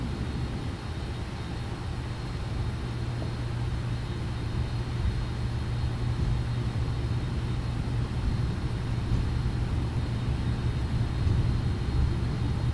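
A simulated Boeing 777-300ER taxiing, a steady broadband engine rumble with a low sustained hum, constant and even throughout without voices.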